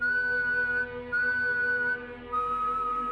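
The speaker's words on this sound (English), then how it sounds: "3 long whistles, then silence." Three long, steady whistles sound one after another, each held for about a second with brief gaps between.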